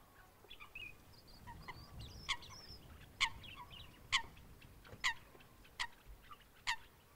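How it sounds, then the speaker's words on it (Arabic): Migratory waterbirds such as coots, cormorants and ducks at a lakeside reservoir in the Middle Atlas, with repeated short sharp calls and chirps scattered at intervals over a soft outdoor background, moderately distant. "محط أصناف كثيرة من الطيور المهاجرة كطيور الغرة والغاق والعفاس والبط بأنواعه."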